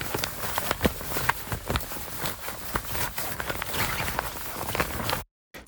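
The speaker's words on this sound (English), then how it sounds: "Some standard cloth whooshes." Cloth whooshes and rustling movement, a run of soft, broadband swishes and brushes, some sustained and some quick, close and fairly steady, ending in a short silence.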